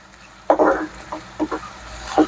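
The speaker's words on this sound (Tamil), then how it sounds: "அதை நல்லா வதக்கி விட்டுங்க." Chicken liver sautéed in a pan for a pepper dish, stirred in short scraping bursts with a light sizzle between them, close and moderately loud, no talking.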